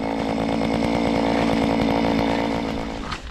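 A gas-powered ice auger drilling holes in ice to set a gillnet roars loudly at close range with a steady engine chug, then winds down toward the end.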